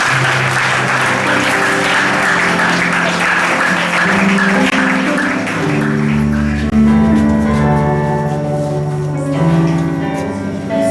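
A church congregation applauds with steady, loud clapping throughout, which shifts partway into clapping mixed with music and voices.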